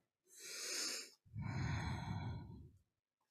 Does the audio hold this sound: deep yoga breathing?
yes